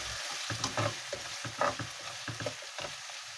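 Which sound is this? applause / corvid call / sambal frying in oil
sambal frying in oil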